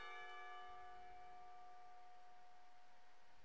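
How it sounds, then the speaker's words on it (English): Clock tower bells from the video game Katawa Shoujo ring out in a single sustained, resonant chime that fades slowly, heard alone at a soft level. "The clock tower bells ring, signaling the end of the period."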